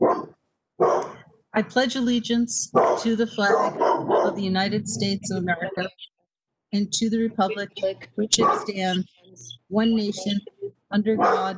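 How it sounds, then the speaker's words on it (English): Dogs bark in the background of a city council meeting, mixed under a group reciting in unison with brief pauses between phrases. "Sorry about the dogs."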